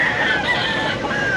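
Banded gamecock roosters, some double banded, at a busy pet market, with several birds crowing and clucking loudly and near over a dense crowd murmur.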